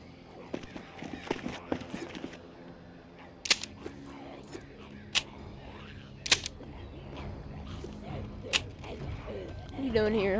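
Shotgun blasts in the zombie game The Walking Dead Saints and Sinners: several sharp, loud single shots spaced a few seconds apart, set over busy game ambience and scattered thuds.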